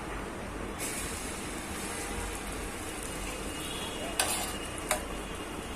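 Potato and egg omelette cooking covered in a pan over low gas gives a steady, soft sizzle and hiss with a couple of brief clinks near the end.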